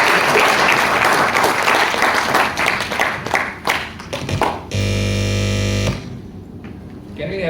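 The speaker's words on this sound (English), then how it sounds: "Can we have a huge round of applause for Vineet?" An audience at an event claps loudly for several seconds, the dense applause thinning into scattered claps before a steady electronic buzzing tone cuts in briefly near the end.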